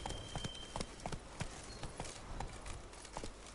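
Hoofbeats of Roach, the horse in The Witcher 3: Blood and Wine, a steady clip-clop of galloping hooves at moderate distance, repeated rhythmic thuds over soft ambient background.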